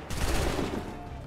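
A musket volley in Assassin's Creed III at the Lexington and Concord battle, a dense crackling burst of many shots at once that fades into a rumbling tail.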